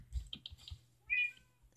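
A cat in the Minecraft video game gives a single short, fairly quiet meow, preceded by a few soft clicks and taps.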